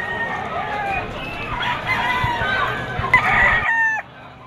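Stag roosters crow at a Malabon pet market, several overlapping loud cock-a-doodle-doo calls with clucking, a busy market din behind them and a sharper crow near the end.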